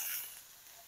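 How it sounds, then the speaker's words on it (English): Steaks searing in a hot pan, a brief steady hiss and sizzle of meat frying on its own, close and fairly soft. "So we're going to let that sear for about 30 to 45 seconds on each side"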